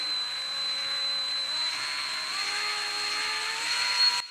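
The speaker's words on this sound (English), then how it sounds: "lock one end of the wire in a vise, chuck the other end into a drill motor" A drill motor slowly twists copper wire clamped in a vise, giving a steady whine with a high constant tone and a motor pitch that gradually shifts, continuous and close with no talking.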